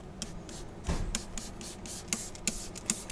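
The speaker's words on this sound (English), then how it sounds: "be generous with spraying it onto the carpet." Several short bursts from a spray bottle at close range, misting liquid onto a car's carpet, evenly spaced, over faint background noise.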